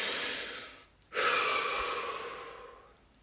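A single slow, deep breath during a guided relaxation session: a soft, close inhalation, a short pause, then a long airy exhale that fades, with no speech.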